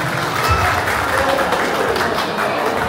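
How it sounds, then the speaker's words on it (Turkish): Guests at a Turkish wedding applaud in a loud, dense wash of clapping from a crowd, steady throughout the short stretch with no clear speech. "Böyle cani gülünden bir alkış yok mu kardeşim?"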